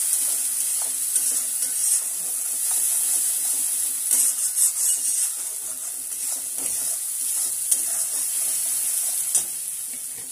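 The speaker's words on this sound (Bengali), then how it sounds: "ভালো করে মশলাটা কষিয়ে নিই" Spices sauté for ghugni in a pan, giving a continuous bright hiss of frying with frequent light scraping and stirring strokes, close and steady throughout, no talking.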